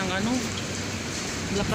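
Steady hissing rain with a rushing, gusty roar of strong wind in the UAE, loud and close, while a voice talks briefly over it.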